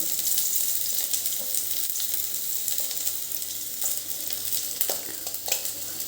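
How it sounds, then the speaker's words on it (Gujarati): Two medium onions, sliced lengthwise, sautéing in hot oil in a pan for cheesy vegetable spring rolls, a steady close sizzle and crackle with occasional stirring clinks, no talking. "તેલ આપણું ગરમ થઈ ગયું છે તો એની અંદર આપણે વેજીટેબલ્સ સાંતળી લેવાના છે"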